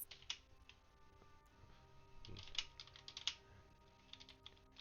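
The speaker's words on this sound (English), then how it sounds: "I'm typing." Quiet typing on a computer keyboard, a loose run of soft key clicks with a few sharper taps, close by, with no talking.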